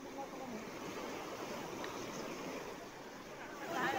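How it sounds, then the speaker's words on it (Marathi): Rain-swollen rivers and streams overflowing after heavy downpours in Umarga taluka, Dharashiv, Maharashtra, give a steady, dense rush of water that grows slightly louder toward the end. "धाराशिवमध्ये उमरगा तालुक्यामध्ये नदी नाले ओसंडून वाहू लागले, त्याची ही दृश्य आहेत"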